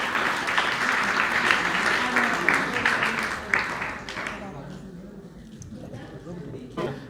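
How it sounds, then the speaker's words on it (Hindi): Applause from an audience at a computer centre opening ceremony, welcoming guests onto the stage; dense, steady clapping for about four seconds, then thinning to scattered claps under murmured voices. "तालियों के साथ स्वागत करेंगे।"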